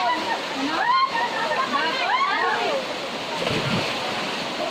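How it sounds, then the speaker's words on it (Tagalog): A large river rushes steadily near a camping spot, a constant broad wash of flowing water that holds even throughout, with people talking over it. "ang laki ng ilog"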